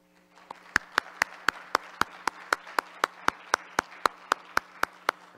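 A single person claps slowly and steadily, about twenty sharp, evenly spaced claps, fairly close, after a talk at an online conference session, with no voices over it.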